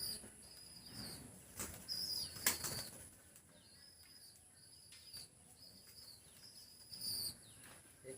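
Birds flap their wings close by in a rural Assamese farmyard, several quick bursts of fluttering spread across a quiet background with occasional high chirps and faint insect noise.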